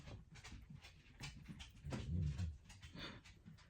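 A dog barks in a short, uneven string of faint bursts, fairly distant and quiet, with a slightly louder cluster near the middle.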